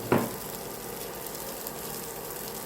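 Yardlong beans stir-fried with egg in a pan: a brief louder hit at the start settles into a steady, close, continuous sizzle of hot oil, no talking.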